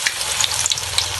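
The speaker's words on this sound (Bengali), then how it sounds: "পর গরম তেলে ছেড়ে দিন" A besan-batter-coated eggplant slice frying in hot oil, a loud close steady sizzle with small bubbling pops and crackles throughout, no voices.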